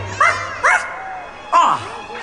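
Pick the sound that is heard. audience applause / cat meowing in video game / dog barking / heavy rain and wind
dog barking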